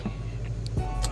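Idling engine of a 1990 Ford Mustang GT convertible just after being cranked, a steady low rumble close by with faint clicks and small knocks over it.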